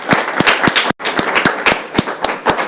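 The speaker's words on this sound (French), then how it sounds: "Est-ce qu'on peut applaudir pour monsieur TJ?" An audience claps in applause at a school-kit handover event for children with disabilities, a dense, steady patter of many hands with sharper individual claps standing out and a brief gap near the middle.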